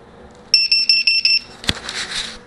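A small beeper alarm on a V262 quadcopter drone gives five short, loud, shrill electronic beeps in even rhythm. A clunk and some handling noise follow.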